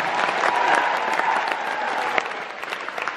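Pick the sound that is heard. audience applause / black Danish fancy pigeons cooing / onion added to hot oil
audience applause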